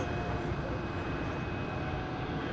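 A Boeing 787 Dreamliner taxiing at Dallas Fort Worth airport toward the American Airlines hangar gives a steady, loud, broadband engine roar with a faint whine, holding constant throughout.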